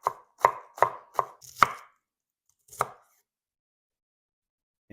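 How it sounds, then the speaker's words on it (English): A knife chopping lettuce on a board, five quick close chops in a burst, then a single chop after a pause, followed by silence. "here I will just chop a little bit of lettuce"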